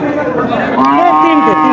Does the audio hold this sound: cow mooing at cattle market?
yes